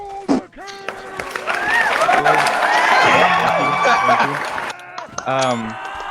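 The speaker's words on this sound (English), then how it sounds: "Everybody, go ahead and clap now." In the medieval combat video game Mordhau, a crowd of player characters claps during a staged play, the applause mingling with shouts, whoops and voices that rise and swell across the scene.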